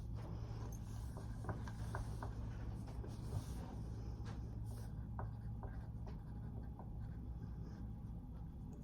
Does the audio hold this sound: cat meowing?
no